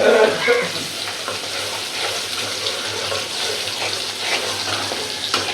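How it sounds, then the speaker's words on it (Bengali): Shrimp sizzle and hiss in hot oil, a dense, continuous frying noise close by with little variation. "তেলের মধ্যে চিংড়ি মাছ সুন্দর করে ভাজা ভাজা করবো"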